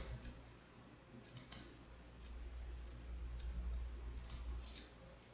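Computer mouse double-clicking at a trading-software setup: a few faint, sharp clicks, some in close pairs, spread across a low steady hum.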